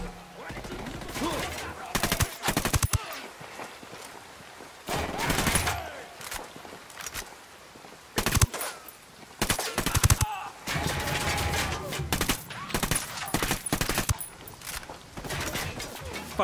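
Automatic gunfire in the shooter Ghost Recon Wildlands, loud rapid bursts and fusillades arriving in several separate waves, mixed with game sounds and occasional voices.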